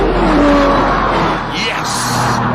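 Lamborghini and Porsche sports cars racing, loud engine roar sweeping past with shifting pitch, heard near and steady under excited speech.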